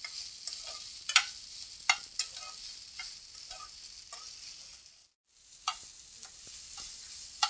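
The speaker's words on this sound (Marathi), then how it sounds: "साबुदाण्याचा थोडासा कलर चेंज होईपर्यंत आपण तेलावरती परतून घेणार आहोत." Sago pearls sauté in oil for sabudana khichdi, giving a soft, steady frying hiss with light scraping stir strokes and scattered small crackles, briefly pausing mid-way before resuming.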